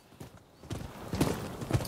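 Horse hooves clip-clop in the video game Rise of the Ronin, a steady run of close, fairly loud hoofbeats that grows stronger partway through, with faint whinny-like tones.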